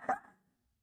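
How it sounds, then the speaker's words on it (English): A single sharp dog bark, fairly loud and close, cuts off quickly into silence. "Dog just went berserk."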